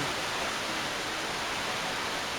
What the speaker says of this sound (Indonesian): Latar belakang saya adalah sebuah air terjun